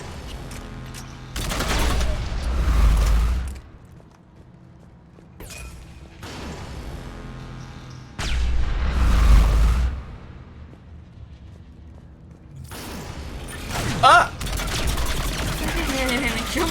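Heavy sniper rifle shots in modded Mass Effect 3, a few booming blasts spaced several seconds apart with rumbling low tails, loud and near over quieter game ambience.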